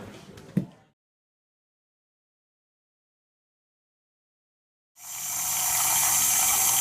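Water rushes into a waterfall ditch, bursting in suddenly as a broad, steady roaring gush after a short clatter and several seconds of silence.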